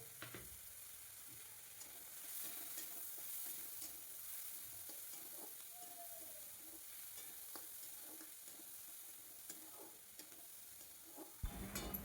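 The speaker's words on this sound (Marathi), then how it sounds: "कांद्यामध्ये थोडं तेल टाकून मस्त लाल होईपर्यंत परतवून घ्यायचा।" Onion fries in oil in a pan until it turns reddish, giving a steady close sizzle with soft stirring scrapes throughout and a louder clatter near the end.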